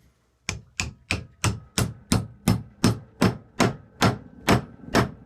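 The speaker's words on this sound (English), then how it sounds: "I'm going to use a metal hammer." A metal hammer taps a wooden handle into a hammer head, about twelve sharp evenly spaced knocks in a steady rhythm, close and clear with no talking.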